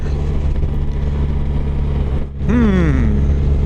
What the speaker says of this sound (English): The old FJR is just cranking the miles out